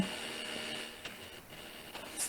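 A worn left-side cooling fan runs with a steady, fairly faint whir and a thin tonal whine, broken by a few small clicks near the end.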